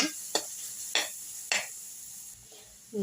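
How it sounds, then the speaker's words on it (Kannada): Grated carrot frying in a pan, stirred with a utensil that makes three sharp scraping strokes about half a second apart over a soft, steady sizzle, close and moderately loud. "ಕ್ಯಾರೆಟ್ ತುರಿನ ಹಾಕ್ಕೊಳ್ಳೋಣ ಚೆನ್ನಾಗಿ ಸ್ವಲ್ಪ ಫ್ರೈ ಮಾಡ್ಕೊಳ್ಳೋಣ"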